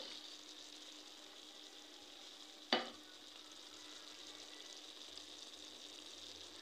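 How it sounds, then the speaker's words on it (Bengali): Fried fish being stirred into taro in a pan, a quiet steady sizzle of frying throughout, broken once by a single sharp clack of the spoon against the pan. "এই মাছগুলা দিয়ে দিলাম কচুর ভিতরে, দিয়ে ভালো করে মাছগুলো লাড়াচাড়া দিয়ে কচুর সাথে মিশাই নেব"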